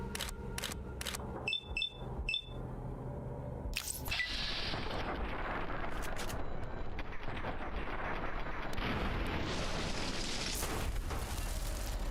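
Gunfire in the video game Fallout: New Vegas, with a few sharp close shots in quick succession at the start followed by a loud blast and a long, dense rumbling noise that fills the rest of the stretch.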